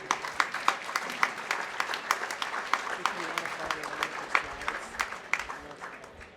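An audience at a talk on farming and climate change claps steadily for several seconds to welcome a speaker, a dense patter of many hands that thins slightly toward the end.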